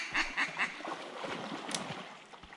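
A duck in a small South Georgia swamp gives a few quick quacks at the start, followed by softer calls and rustling outdoors.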